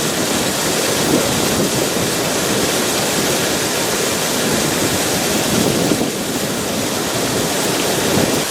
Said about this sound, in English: these cliffs are having water pouring off the edges of them